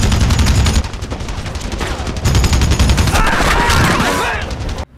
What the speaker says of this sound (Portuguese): o Rambo que sai lá na floresta, mas dando tiro pra tudo quanto é lado